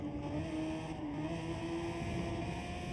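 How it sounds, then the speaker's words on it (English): Raspy Toyota Super Formula race car engines from a racing video game at Brands Hatch, a steady high-pitched engine drone holding through the clip with slight pitch shifts, loud and continuous without speech. "You can hear these raspy Toyotas"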